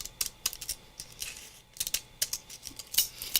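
Scissors snip through a strip of Velcro fabric, a quick run of sharp crisp cuts close by, with no voices.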